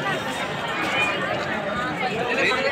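Dense crowd chatter near the upper steps of Jama Masjid, a steady mass of overlapping voices and footsteps held at an even, busy level throughout.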